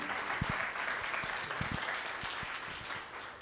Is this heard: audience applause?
yes